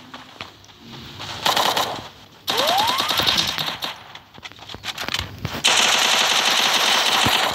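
Gunfire in the Free Fire mobile game: rapid automatic bursts and single shots, with game sound effects including a rising whoosh, dense and loud throughout, with no talking.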